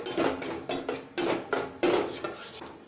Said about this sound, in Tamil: முந்திரி வறுத்து எடுத்துக்கலாம்